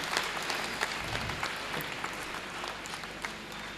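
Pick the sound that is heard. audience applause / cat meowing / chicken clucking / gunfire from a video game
audience applause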